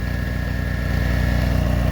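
A Harbor Freight Chicago Electric generator engine runs steadily at rated speed after repair, a loud, close, evenly pulsing mechanical drone with no break.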